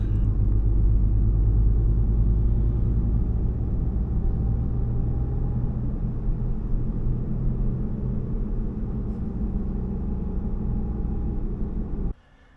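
A Volvo five-cylinder engine drones steadily while driving, a loud, continuous low rumble of cabin and road noise that holds near-constant for about twelve seconds before cutting off abruptly.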